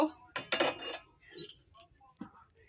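Raw green banana being cut with a knife in a home kitchen, giving a few sharp clinking chops and taps against a board, spaced irregularly and fairly close, with quiet pauses between strikes.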